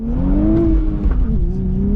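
A 2023 Nissan Z sports car driving, a steady engine drone that rises and falls slightly as it pulls along, heard up close without talk.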